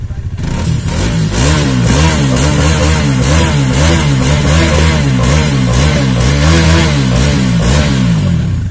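A Bajaj Dominar 400 motorcycle with twin barrel exhaust revs hard and close, its engine rising and falling in repeated loud pulls throughout, with no talk.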